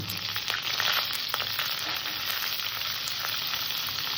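Vegetable stalks and potatoes fry in a pan with a dense, even sizzle of hot oil that runs throughout, with faint ticking pops and scrapes of stirring mixed in.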